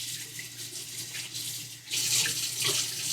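A kitchen tap runs while a pork shoulder is rinsed of excess salt and sugar: a steady, close hiss of running water that grows louder and splashier partway through, with no talking.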